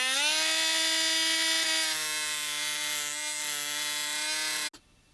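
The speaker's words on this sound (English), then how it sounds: "I'm using a Dremel here with a sanding disc on it." A high-pitched Dremel with a sanding disc whines steadily as it grinds against fiberglass, its pitch dipping slightly under load before it cuts off.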